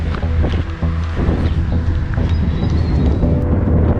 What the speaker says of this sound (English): whoa, windy, apologies, it's a windy day like